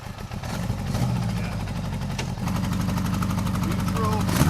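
A 1975 Honda Goldwing 1000cc motorcycle engine runs at a steady, close idle, its low throbbing pulse continuous and slightly rising in level toward the end.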